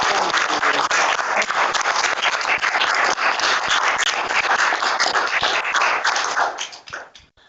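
A council chamber audience applauds the town carnival organiser and his team, steady dense clapping for about six seconds before tapering off.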